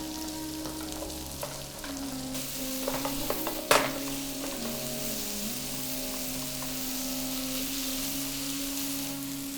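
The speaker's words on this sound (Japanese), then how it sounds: "で玉ねぎ加えてあげたら強火で玉ねぎ飴色になるまで炒めてあげましょ" Onions stir-fry in a pan over high heat with spice aromatics, throwing off a steady loud sizzle as a utensil scrapes and stirs. One sharp clatter cuts through partway.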